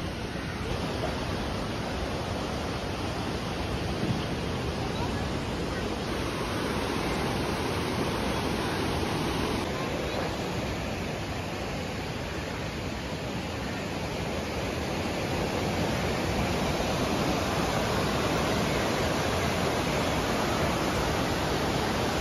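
Water rushes steadily and loudly through the river at Hogenakkal, a continuous broadband roar with no pauses.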